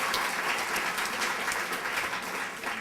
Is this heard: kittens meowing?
no